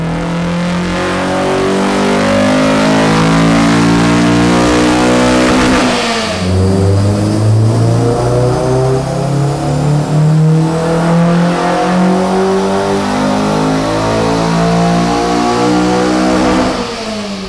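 A 9th-generation Honda Civic engine revs hard at wide-open throttle on a dyno, pitch climbing steadily, dropping, then climbing again in a second loud, sustained pull.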